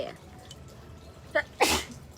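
A single close sneeze bursts out sharply after a brief, quieter intake, with people talking around it.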